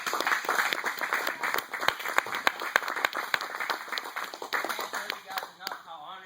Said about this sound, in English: I want to give a big round of applause for everybody who put it all on the line and competed this weekend